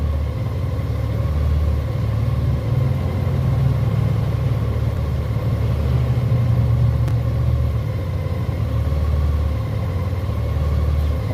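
Motorbike engine idling and rumbling steadily at the start of a ride, a constant loud low drone that stays even throughout with no talk over it.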